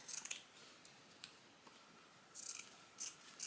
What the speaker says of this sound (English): Okay, I'm gonna cut about right here.